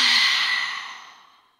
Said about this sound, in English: Open up the mouth, exhale.